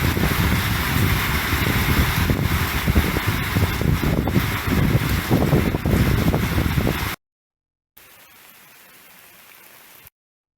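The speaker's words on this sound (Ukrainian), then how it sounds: "І ще й вітруган такий, що не можна на двір вийти дверей відчинити." Heavy wind gusts mixed with pouring rain during a thunderstorm, a dense roaring wash that cuts out abruptly, followed by a quieter patch of wind.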